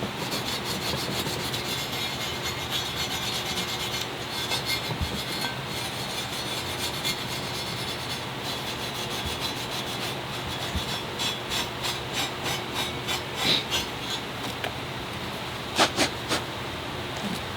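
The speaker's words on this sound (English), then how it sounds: "after scraping that, I'm gonna use a little scuff pad." Scuff pad rubbed over an engine surface after scraping during VW timing chain work, a steady close abrasive scrubbing that turns into quicker, louder rhythmic strokes near the end.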